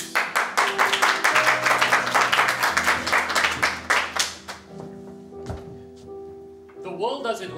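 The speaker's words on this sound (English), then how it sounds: "please give warm round of applause to our honored guest, delegate of World Peace Alliance." An audience at a concert applauds an honored guest, strong rhythmic clapping that fades out, followed by sustained musical tones and a voice beginning to speak.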